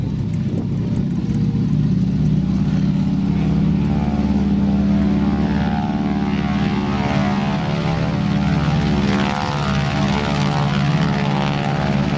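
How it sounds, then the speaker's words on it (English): The propeller engine of a North American T-6 Texan in a flight simulator drones steadily and loudly throughout, a constant buzzing hum with a rough, throbbing edge and no talking. "Even the sound of the propeller tips going supersonic is present"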